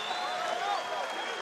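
Crowd cheering and applauding for a fighter at a 100 kg WKU kickboxing bout in Varna, a loud, continuous roar filling the arena while a commentator talks over it.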